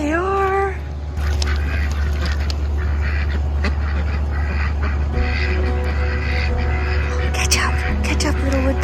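Ducks, including a wood duck, quack and call at a marina on the Illinois River over a constant low engine rumble, with voices talking now and then in the background.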